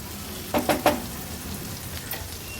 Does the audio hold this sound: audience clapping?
no